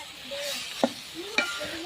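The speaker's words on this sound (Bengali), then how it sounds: "তেল গরম করে আমি সয়াবিনগুলো আবার হালকা করে ভেজে নিচ্ছি" Lightly boiled soybean chunks fry in hot oil in a kadai, a soft continuous sizzle broken by two sharp scraping clinks as a spatula stirs them.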